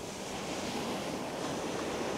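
Ocean surf washing onto a beach where people fish in spring, a steady broad roar of water with no single distinct crash, constant and fairly loud throughout.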